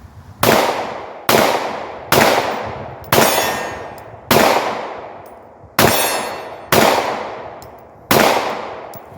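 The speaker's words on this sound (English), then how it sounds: "So I'm going to fire a couple of shots with the 9 millimeter." Nine shots from a one-handed 9mm Glock pistol fitted with a Holosun optic, evenly spaced about a second apart, each a loud, sharp crack with a ringing decay outdoors.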